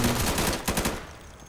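A quick burst of automatic rifle fire from the shooter game Insurgency rattles in rapid close shots for about a second, then trails off into a fading echo.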